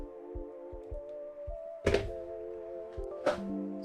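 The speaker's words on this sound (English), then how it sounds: "Excuse the phone plugging in sounds." A phone being plugged into its charging cable: a few soft taps, then two sharper, louder clicks a second or so apart, over a low background hum with no talking.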